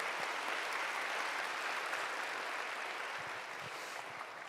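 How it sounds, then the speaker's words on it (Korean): A church congregation applauds at a Sunday service, a steady, soft wash of many hands clapping that carries on evenly throughout, heard from some distance with no voices over it. "우리 신임 속장님들을 위해서 다시 한번 뜨겁게 박수해 주시기 바랍니다"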